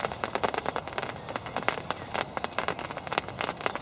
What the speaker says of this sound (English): And here comes the rain.